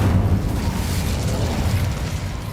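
An Incendio fire spell blast in the Hogwarts Legacy video game, a deep rumbling whoosh of flame that fills the clip, loud and steady, slowly easing off.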